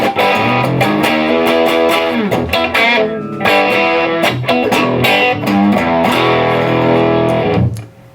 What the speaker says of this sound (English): In this middle position, these patent sticker pickups have that great upper mid-range tone